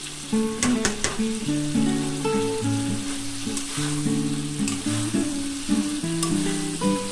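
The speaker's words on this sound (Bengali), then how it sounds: "এঁচোড়গুলো দিয়ে আমি মশলাটাকে ভালো করে মাখিয়ে নেব" Boiled green jackfruit fries and is stirred into spice paste in a pan, a loud continuous sizzle with sharp clicks of the spoon and a steady tonal hum running underneath.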